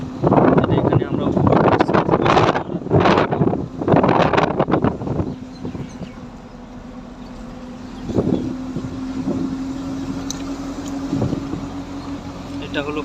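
Cool wind blows outdoors along a tree-lined road near Bhatiary in the Chittagong Cantonment, buffeting the microphone in a steady rush, with voices talking over it during the first half.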